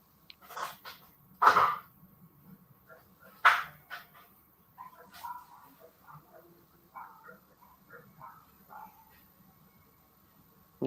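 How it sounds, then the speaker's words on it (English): A dog makes noise nearby in two loud sharp bursts, followed by softer scattered whines and snuffles over a quiet room hum. "Noisy dog."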